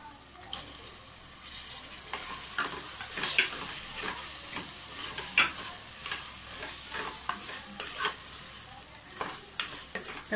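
Tomatoes being stirred and fried with coriander and mint in a pan for chicken biryani, a steady soft sizzle with repeated scraping and clinking spoon strokes close by.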